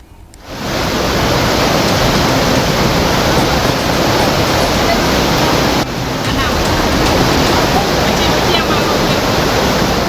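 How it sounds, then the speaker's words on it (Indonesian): Floodwater from the overflowing Batang Kuranji river in Padang, West Sumatra, rushes in a loud, continuous roar that starts abruptly and holds steady, like a torrent close by. "banjir bandang kembali menerjang kawasan Batu Busua, Kecamatan Pauh, Kota Padang, Sumatera Barat"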